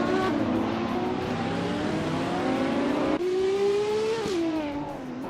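A 1969 Lola T70 race car engine in a racing video game drones steadily with harmonic whine, rising in pitch then dropping back near the end, loud and continuous without talk.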